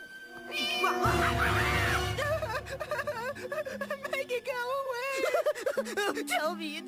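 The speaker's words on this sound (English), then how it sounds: "It's just a baby kitten." A baby kitten mews in a few rising, wavering cries over a loud music bed, with people talking around it.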